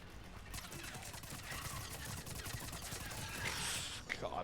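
SMG gunfire in Mass Effect Legendary Edition combat, a rapid continuous rattle of shots with scattered impacts, fairly quiet and steady, with a voice talking over it.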